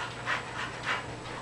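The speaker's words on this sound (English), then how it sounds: "My dogs just got home from taking a walk, and apparently they're really panty." Dogs home from a walk pant in quick, rhythmic breaths, close and fairly soft, with no talking.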